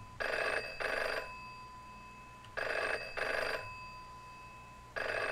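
Telephone ringing in the Ghost Dance video game: an old-style bell phone gives double rings in a regular pattern, three pairs of bright trilling bursts separated by quiet pauses, clear and alone.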